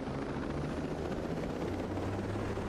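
A helicopter in the video game Tom Clancy's Ghost Recon Breakpoint flies with a steady, close rotor thrum and engine drone, loud and unbroken with no talk.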